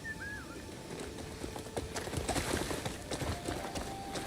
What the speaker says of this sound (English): I forgot I can summon my horse.